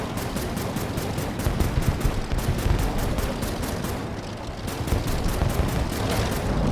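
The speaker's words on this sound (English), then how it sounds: "I'm gonna shoot this dude" Rapid machine-gun fire from a fighter plane in the browser game Air Wars 3, a dense continuous stream of shots with a steady engine-like roar beneath, loud and without speech.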